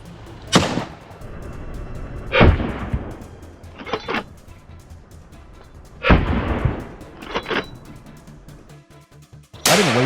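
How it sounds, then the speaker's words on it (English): Rifle shots fired at feral boars on a Texas hillside ring out one at a time, about five sharp loud cracks spaced irregularly over open ground, with quieter outdoor rustle between them. "Gunshots rang out, one after another, and the targets dropped like dominoes."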